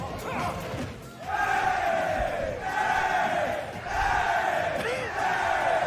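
A large esports tournament crowd for Super Smash Bros. Ultimate roars in loud repeated swells of cheering and shouting, rising and falling in waves with brief dips between.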